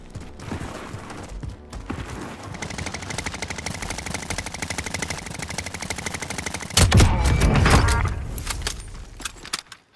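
Gunfire in an online shooter video game crackles in rapid bursts, dense and fairly loud, with a heavier close volley near the end.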